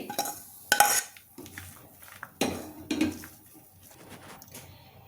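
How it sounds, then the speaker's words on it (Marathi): Veg sandwich filling of sautéed peas being scraped from a pan onto a plate, with a sharp metal spoon clatter near the start and a few softer scrapes and knocks of utensils against cookware, close and moderately loud, no speech. "आता मी त्याला एका प्लेटमध्ये काढतेय थंड करायला"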